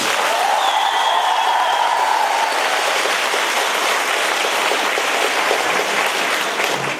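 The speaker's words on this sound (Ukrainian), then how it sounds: "бурхливими оплесками привітайте себе з Днем студента" A student crowd bursts into stormy, sustained applause at a Student Day celebration at a pedagogical college in Brody, a dense steady roar of clapping for the full length, with a faint tonal whistle-like sound early on.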